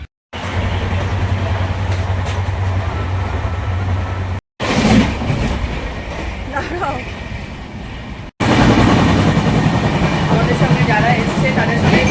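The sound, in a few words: train running on rails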